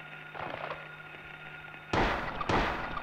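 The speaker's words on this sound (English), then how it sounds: "Harry's clearly shooting at some fucking bug nowhere near him" Two sharp gunshots, close and loud, from Harry firing at a bug in the horror video game Silent Hill, the second about half a second after the first, over a steady low game hum.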